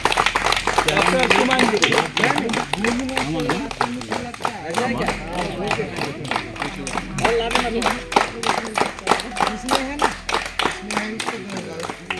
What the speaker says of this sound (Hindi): एक बार जोरदार ताली दीदी के लिए भी